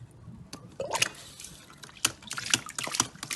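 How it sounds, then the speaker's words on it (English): Waste water from an aquaponic ram pump spilling into a collector tank, heard as close, irregular splashing drips and gushes in bursts roughly every half second. "the water waste will pour down into the wastewater collector tank first"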